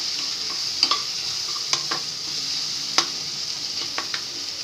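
Panch phoron spices hiss steadily in hot oil in a pan, with soft, irregular ticks and scrapes as they are stirred, close and fairly quiet with no talking.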